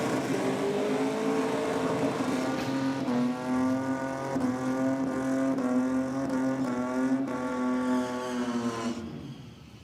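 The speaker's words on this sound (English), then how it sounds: "One of our well-known burnout cars around the country." A burnout car at a race event holds its engine at high, steady revs, a loud sustained roar that swells slightly before fading away at the end.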